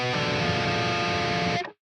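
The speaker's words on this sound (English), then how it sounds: "This is what is called a diminished chord" One thick, gritty distorted guitar diminished chord, tense and dissonant, held steady for under two seconds and then abruptly stopped.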